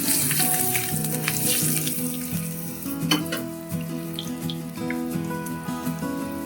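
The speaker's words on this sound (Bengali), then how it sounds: "রসুন কুচিটা হালকা ভাজা হয়েছে।" Chopped garlic frying in hot oil with a pinch of turmeric for a soya chunk curry: a loud, continuous close-up sizzle with light stirring, accompanied by soft background music.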